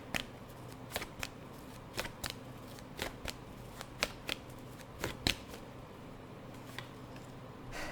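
Tarot cards shuffled and drawn by hand, a run of crisp, quiet riffling flicks and snaps in an irregular rhythm, close and alone with no talking.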